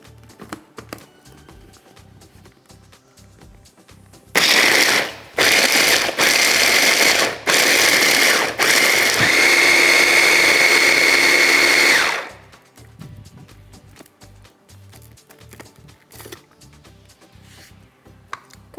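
An electric kitchen mixer beats marzipan made with powdered sugar in a loud burst of about eight seconds, cutting in and out a few times before running steadily, with quiet kitchen sounds before and after.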